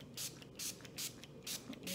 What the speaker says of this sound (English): I'm just gonna spray this on with alcohol